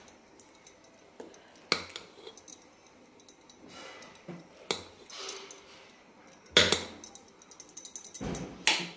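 A spoon stirring veg pulao with coriander in a pan, producing scattered soft scrapes and sharp metallic clinks at an uneven pace, fairly quiet and close.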